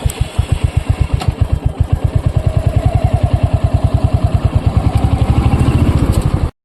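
A motorcycle engine idles loud and close, its steady rapid thumping pulses holding an even rhythm for several seconds before cutting off abruptly at the end.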